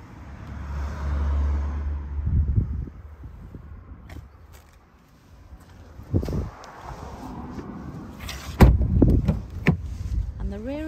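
Electric windows of an Audi A6 car whirring as they move, with engine hum, interior clunks and some talk in the cabin, at moderate loudness.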